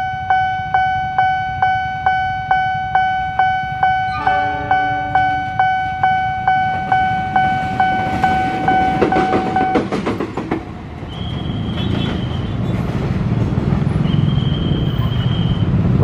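At a busy railway level crossing in Jakarta, the warning bell rings in a steady, evenly spaced ding, then a train rumbles past loudly with rolling clatter that keeps going to the end.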